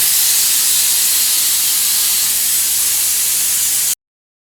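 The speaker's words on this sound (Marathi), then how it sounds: "आता आपल्या कुकरच्या शिट्या झालेल्या आहेत" A pressure cooker holding mutton vents steam in a loud, unbroken hiss at close range that cuts off abruptly after about four seconds, leaving silence, with no talk.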